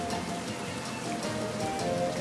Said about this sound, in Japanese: 土砂降りだけどね。